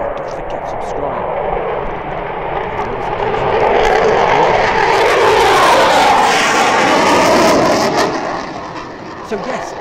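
F-15 fighter jets fly overhead in a loud, sustained roar that swells to a peak in the middle and then slowly fades.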